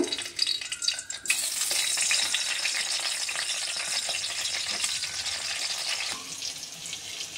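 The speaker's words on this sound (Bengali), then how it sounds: "তেল গরম হলেই আমি এই বেগুনগুলো অল্প করে হালকাভাবে একটু ভেজে নেব" Eggplant pieces hit hot oil with a loud, dense sizzle that crackles steadily, then softens toward the end, close up and without speech.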